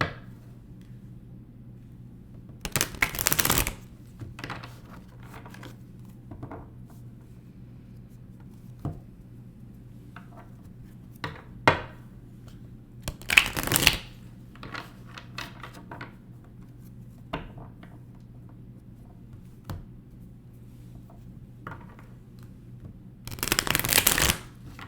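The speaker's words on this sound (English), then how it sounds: "I'll sometimes shuffle the cards imagery side up" Tarot cards riffle-shuffle in three brisk bursts, separated by quiet stretches with light handling clicks and soft tapping.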